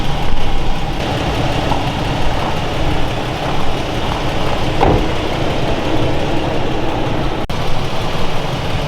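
A Toyota Tacoma engine idles steadily after a battery post repair, a loud, continuous low rumble close by with a brief click partway through.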